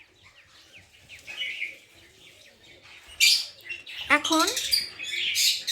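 Pet lovebirds chirp and tweet in the evening, with sharp high calls growing louder and busier in the second half, while a voice speaks briefly and faintly.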